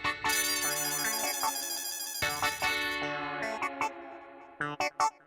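A phone ringtone playing a bright electronic melody of repeated tonal phrases with echoing effects, loud and close, the tune stopping and restarting in short bursts toward the end.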